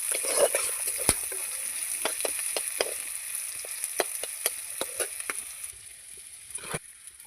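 Chopped onions frying in oil for a village-style fish curry, giving a faint steady hiss with scattered light crackles and taps, quieting near the end.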